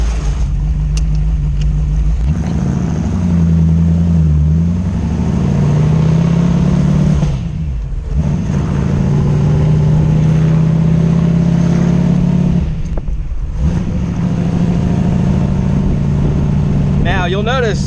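A Sunbeam Tiger fitted with a 289 V8 engine drives along, its steady low rumble rising and settling through gear changes, with someone talking over the engine noise throughout.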